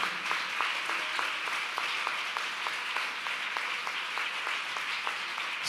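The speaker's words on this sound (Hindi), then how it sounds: "Give a round of applause to the Lord." A congregation at an English-Hindi church sermon claps for the Lord in a steady, fairly even rhythm, with many hands blending into sustained applause that carries on without a break and with no talking on top.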